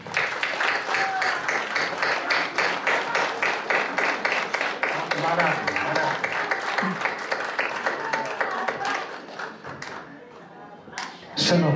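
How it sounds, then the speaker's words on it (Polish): Concert audience in Łomża applauding a singer, a long steady round of clapping that thins out toward the end, with a faint voice underneath. "Wielkie brawa."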